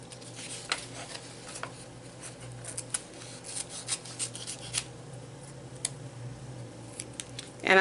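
Scissors snipping paper to trim a piece for an index card art project, a series of short crisp cuts and rustles scattered irregularly, close and fairly quiet with no talking.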